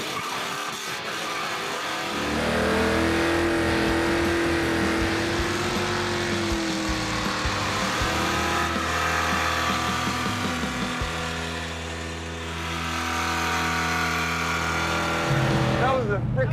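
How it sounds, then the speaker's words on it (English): A 1968 Plymouth Road Runner with loose steering revs hard into a burnout, engine roaring loud and near with shifting pitch and tire screech, dipping briefly before surging again. "That was a freaking gnarly ass burnout."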